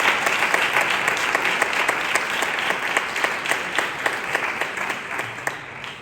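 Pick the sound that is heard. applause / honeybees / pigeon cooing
applause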